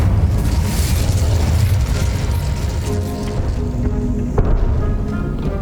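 An Incendio fire spell is cast in Hogwarts Legacy, a loud, dense whooshing burst with deep rumbling booms that rolls on continuously, with a sharp crack near the end.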